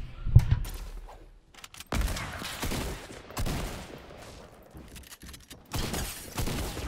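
A weapon in a video game fires in fast bursts of rapid gunfire, several rattling volleys separated by short pauses, fairly loud and close, with no talk.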